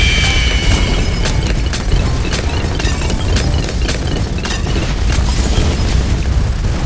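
Explosions from an Ultra Mega Strike rock the tower defense game Bloons TD 6, producing a dense, loud, continuous barrage of booms and crackling blasts that never lets up.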